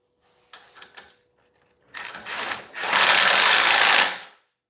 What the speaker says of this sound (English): Let's tighten this thing down.